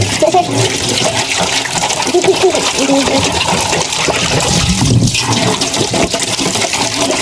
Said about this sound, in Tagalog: Tapos yung lababo, babalawan natin yan siya.